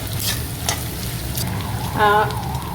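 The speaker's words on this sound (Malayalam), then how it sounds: "ചെറിയ ഉള്ളി ഷാലറ്റ് അരിഞ്ഞത് ചേർക്കുന്നു. അതൊന്ന് കളർ ചേഞ്ച് ആകട്ടെ, അതുവരെ ഇട്ട്" Chopped shallots sauté in a pan for a Kerala-style beef roast, giving a steady, close frying sizzle with occasional stirring strokes and a brief voice near the end.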